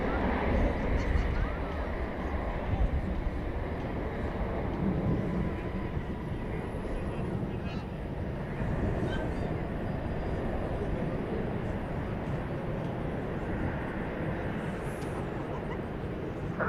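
An American Airlines jet lands on runway 18 right at DFW Airport at night, a broad, steady engine roar sustained from start to end beneath tower radio chatter.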